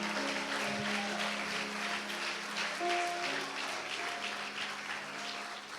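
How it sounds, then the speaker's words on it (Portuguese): A church congregation applauds at an evening service, steady clapping that fills the room, fairly soft and distant, with a held musical tone underneath. "Você consegue aplaudi-lo esta noite?"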